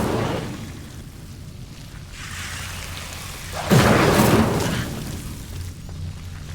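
An Incendio fire spell cast in Hogwarts Legacy against Devil's Snare, a rushing whoosh that swells to a loud roaring burst of flame over a rumbling stormy background, then subsides, with no talking.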